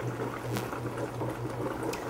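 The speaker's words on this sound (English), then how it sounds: "air is pumped down into the bottom and then pushes water back up into it and drips over the plant" An air pump bubbles water in a hydroponic bucket system, giving a steady, low bubbling and gurgling wash with a constant hum underneath, close and fairly quiet, with no voices.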